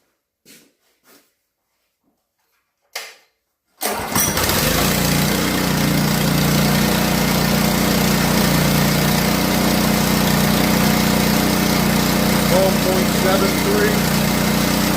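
An old pressure washer engine, rigged as a battery charger, fires up after a few faint knocks and settles into a loud, steady running drone that continues to the end.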